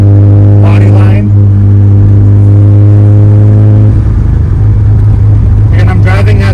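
A modified Mazda FB RX-7 with a rotary engine cruises at about 60 km/h, a loud, steady low engine drone inside the cabin that shifts tone partway through, with someone talking over it.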